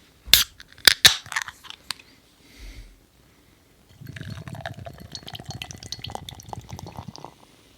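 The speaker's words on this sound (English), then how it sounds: "So let's crack this open." A can of Xmas double ale, an 8% beer brewed with cardamom, cinnamon, cloves and fig paste, cracks open with a couple of sharp close clicks and a hiss, followed by a longer fizzy pour of beer.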